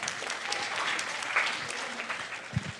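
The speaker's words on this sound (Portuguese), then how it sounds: "E palmas para a nossa voluntária corajosa" An audience claps steadily for a brave volunteer at a workplace safety-week talk on anxiety, a dense moderate-level patter that fills the room throughout, with a couple of louder low thumps near the end.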